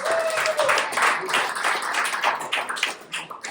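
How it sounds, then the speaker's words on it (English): An audience at a stand-up comedy class showcase applauds, a crowd of clapping hands heard fairly close that stays lively, then thins out toward the end, with a voice faintly mixed in. "So have a round of applause for yourselves for coming out, for doing it"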